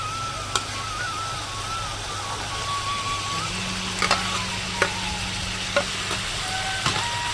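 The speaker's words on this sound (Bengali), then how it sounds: "ভেজে রাখা সবজিগুলো দিয়ে আমি কষিয়ে নেবো ভালো করে" Fried eggplant and potato pieces sautéing in spice masala: a steady, even hiss of frying with occasional sharp taps of a spoon against the pan, close and moderately loud, with no voices.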